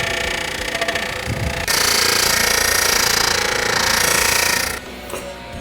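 An Eastwood buffer wheel polishing a part gives a loud, close, continuous grinding whir that turns harsher and brighter as the part presses in, then eases off near the end.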